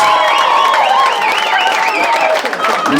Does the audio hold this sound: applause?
yes